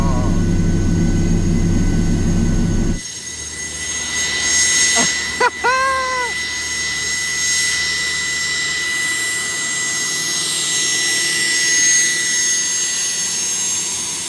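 Jet turbine engine fitted in a Chevrolet Camaro running at idle, a steady high whining roar with a constant tonal hum after a short louder start, plus a brief rising squeal and chirp partway through.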